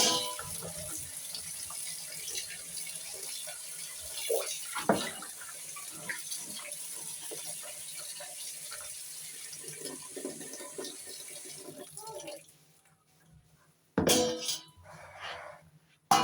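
Tap water runs steadily into a sink as pickles are rinsed in clean water, with occasional clinks and splashes; the flow stops near the end, then briefly resumes.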